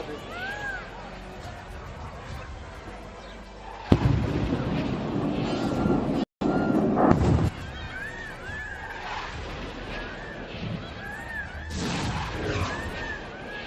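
Air defense guns and explosions intercepting drones over Kutch at night, a sequence of loud crackling bursts and booms at a distance, with voices and whistling tones in between.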